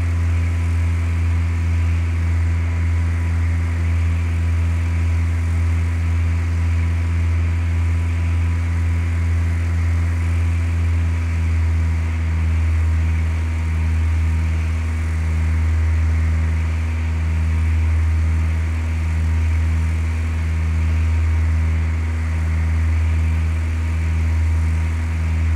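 A propeller airplane engine in the game Flight Simulator 2004 drones continuously at a steady low pitch, a loud, unbroken hum with a slight pulsing throb and no other sounds.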